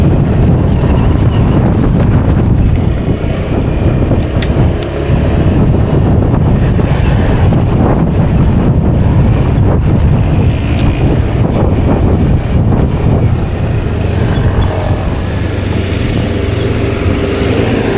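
Strong wind roars and buffets the microphone without pause, a loud, rushing rumble with no voices heard.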